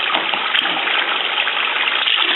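Water gushes steadily into a recirculating gold sluice built for desert prospecting, a loud, continuous rushing flow that stays constant throughout with no voices.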